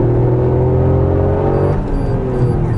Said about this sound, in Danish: de har sat en ingeniør til at lave en falsk motorlyd gennem højtalerne